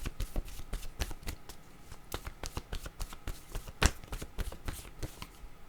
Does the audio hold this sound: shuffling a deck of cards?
yes